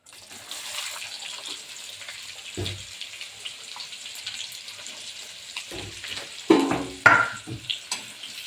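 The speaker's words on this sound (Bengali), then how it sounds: "এবার এর মধ্যে দিয়ে দেবো আমি পেঁয়াজ কুচি।" Chopped onions hit hot oil with tempering spices for a chicken curry, giving a steady frying hiss that swells into louder sizzling bursts toward the end.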